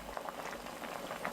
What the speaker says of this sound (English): Then we cook it in some water to make that broth, and continuously skimming off that foam to make sure it has that perfect clarity.